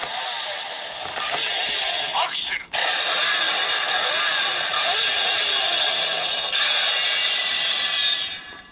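Kamen Rider Double DX Accel Driver toy belt handle being revved, giving a loud, continuous electronic engine-rev sound effect with brief ratcheting clicks from the handle, close and steady with one short break.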